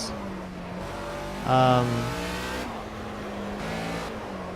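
A racing car engine in the driving game Project Cars hums and drones, swelling into a brief louder rev before easing back into a steady whine. A voice is heard faintly alongside.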